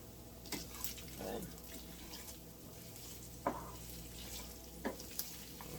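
Breakfast sausage for burritos fries in a pan with a low, steady sizzle, and a few sharp clacks and scrapes of a utensil break it up, heard close by.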